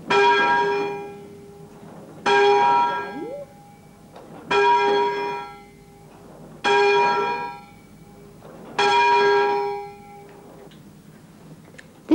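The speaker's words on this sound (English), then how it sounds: "This is one of the smaller bells." A small church bell rings five times at slow, even intervals, each clear metallic strike ringing out and fading before the next.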